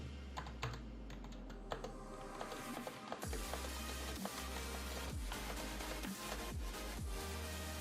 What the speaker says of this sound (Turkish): Benim kullandığım model kırmızı switchlere sahip. Tuş seslerini size dinleteyim.